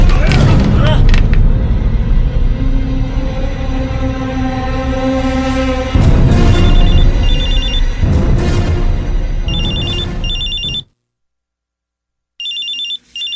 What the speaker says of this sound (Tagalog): Si Melchor ang tumatawag ah